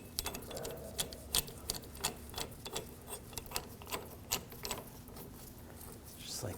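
Brake caliper piston compressing tool twisting the rear caliper piston back on a 2006-2009 Audi S4 4.2L V8, giving a run of close, irregular mechanical clicks and ratcheting ticks over a low steady hum.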